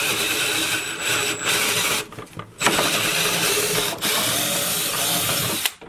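A power drill bores a hole through a homemade ice fishing sled, grinding loudly and steadily with brief pauses and restarts, close by with no talking.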